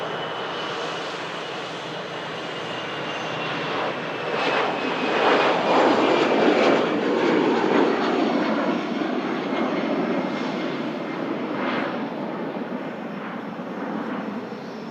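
An EasyJet airliner moving at Manchester Airport, a steady broadband engine roar that swells slightly midway and holds, fairly close and loud with no talking.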